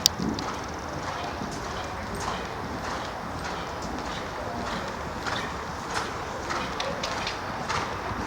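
A horse canters in a riding lesson, its hooves giving off steady rhythmic clip-clops at a moderate distance, with no talk heard.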